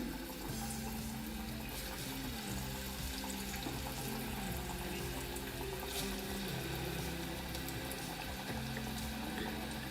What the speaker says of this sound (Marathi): असे तेलामध्ये हळू सोडायचे तेल उडतं आहे